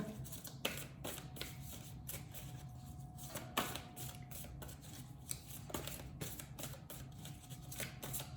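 Tarot cards are shuffled and drawn, heard as soft, faint, repeated flicks and riffles with a light papery rustle against a low background hum, with no talk.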